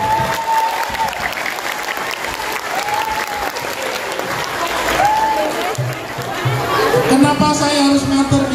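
A school audience at an anti-drug awareness talk breaks into sustained applause, a dense rolling clatter of many hands close by with crowd chatter and a voice over the noise.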